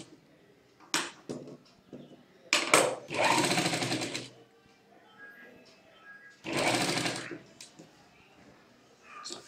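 A sewing machine stitches a blouse in a few short bursts plus two longer runs of steady, close mechanical whirring, with quiet gaps between them.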